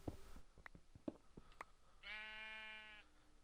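A single synthetic-sounding bleat of a sheep in Minecraft, brief and clear, follows a few soft clicks and taps.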